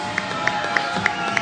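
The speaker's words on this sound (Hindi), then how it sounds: "तालियां बजा दीजिए" A studio audience on a Pakistani talk show claps and cheers for a guest, a steady wash of applause with a few sharper claps rising at regular intervals.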